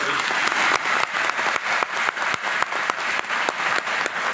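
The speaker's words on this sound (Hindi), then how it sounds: "मेरे ख्याल से आपको थोड़ी जोरदार ताली बजानी चाहिए था।" Audience clapping at a career counselling seminar, a strong burst of many hands with distinct rhythmic, nearly unison beats roughly every quarter second, close and lively, no talking over it.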